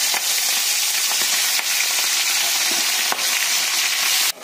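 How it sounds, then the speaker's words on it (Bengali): Turmeric-coated prawns fry in oil with a loud, continuous close-up sizzle, dotted with soft crackles and a few faint stirring knocks. "বন্ধুরা এই যে চিংড়ি মাছগুলো ভাজা হয়ে গেছে"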